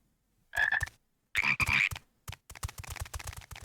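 Frog croaking in the video game Final Fantasy XIV, a few distinct bursts of croaks with pauses between, followed by a string of rapid short clicks and croaks, close and clear.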